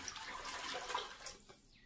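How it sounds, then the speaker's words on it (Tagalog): Water being poured into a cooking pot for a monggo lentil stew with chicken cube, a soft splashing pour that fades out near the end, faint and close. "Ngayon, ilalagay natin yung tubig sa loob."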